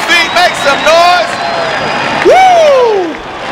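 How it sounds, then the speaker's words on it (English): A crowd at a Formula Drift round at Evergreen Speedway in Seattle roars and whoops in the background, while a loud commentator shouts excitedly over it. "Stomp your feet, make some noise"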